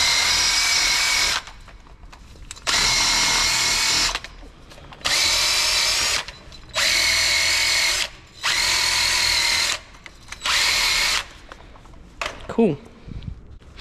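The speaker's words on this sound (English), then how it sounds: "we're gonna go ahead and wire wheel this part right here. Alright, so I've got my wire wheel." A wire wheel on a power drill scrubs rust off the front brake parts of a Nissan Altima in six loud, close bursts of high grinding whir separated by short pauses, followed by a few clanks.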